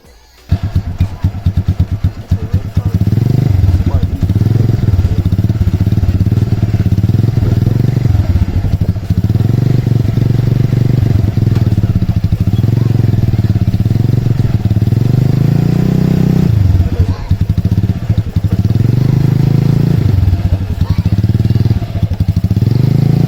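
A motorcycle engine idles and revs steadily throughout as a learner rider is coached in Jamaican bike life practice, with a continuous loud rumble, occasional clatter and thumps, and a voice speaking over it at times.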